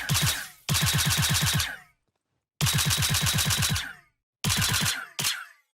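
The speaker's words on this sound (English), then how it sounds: "We have an early sound for FPS plasma weapons with the Kana plasma rifle." The Kana plasma rifle from the video game Star Citizen fires in three loud bursts of rapid, evenly spaced energy shots, each burst trailing off into a short echoing tail.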